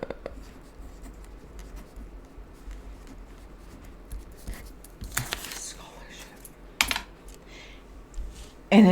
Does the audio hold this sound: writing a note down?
yes